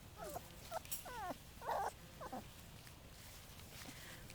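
Four-week-old Bullmastiff puppies whimpering, several short high, rising cries in quick succession, fairly close, over a faint noisy background.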